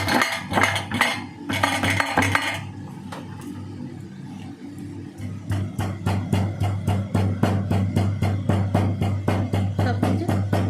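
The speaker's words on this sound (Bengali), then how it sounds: "এই আদাটাকে আমি থেতো করে দেবো।" Ginger being crushed in a kitchen for a Bengali cabbage curry, with repeated rhythmic pounding and metallic clinks of utensils close by over a steady hum, faster and more regular in the second half.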